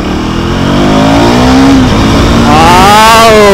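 A black KTM Duke 390 motorcycle engine revs loudly and close, its pitch climbing in a rising sweep, dipping briefly, then climbing again higher, with no voices.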